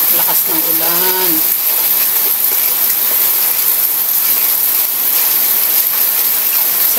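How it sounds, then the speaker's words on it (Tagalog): Heavy rain roars as a steady, dense hiss close by, with a brief voice heard near the start and the downpour continuing unbroken throughout. "Lakas ng ulan."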